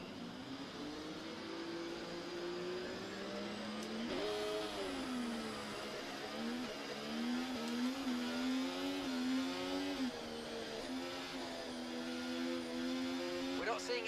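An F1 race car engine in the F1 24 video game revs hard at the start, holding a steady high whine with rising and falling pitch for several seconds, with a voice talking over it.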